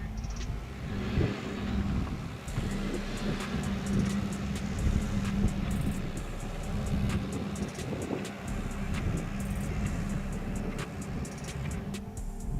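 An SUV, one of a Toyota RAV4, Nissan Rogue, Subaru Forester, Mazda CX-5 or similar, standing still while its unloaded wheels spin: a steady droning engine hum with a low whirring tone and occasional knocks and clicks, moderately near, with no voices.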